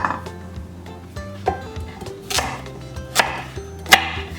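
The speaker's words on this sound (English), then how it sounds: "Let's cut it very coarsely, like that." A knife chops vegetables coarsely on a board, with several distinct thunks at an uneven pace. Background music plays beneath the cuts.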